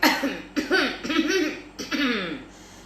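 A storyteller's voice imitates an old man coughing and clearing his throat in a few short, rough bursts, heard close and alone.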